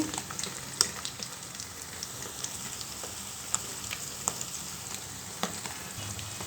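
Turmeric, masala and ginger paste frying with eggs in a pan for egg rice, stirred together: a continuous close hissing sizzle broken by light scraping and clicking from the stirring spoon, with no voices.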